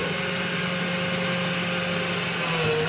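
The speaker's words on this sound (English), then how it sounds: "You just want to drill just through the plexiglass and into the woodwork." A power drill boring through plexiglass into wood whines steadily and loudly up close, its motor drone continuous throughout, with a slight pitch shift near the end.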